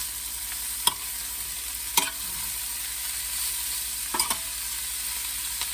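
Sautéed banana heart vegetables are stirred in a pan under a continuous hiss of frying, with a few sharp scrapes of the utensil spaced seconds apart, close and fairly quiet.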